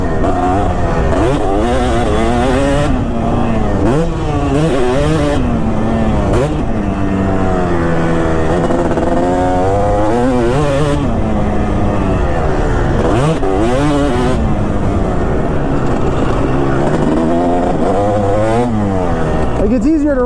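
A 2005 Kawasaki KX250 two-stroke dirt bike is ridden while held in third gear. The engine snarls close and loud, revving up and down continuously through the ride, while a person talks over it.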